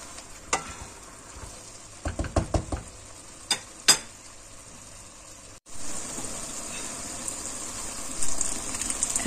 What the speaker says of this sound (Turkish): Kavrulan mantarımıza suyunu ekledim.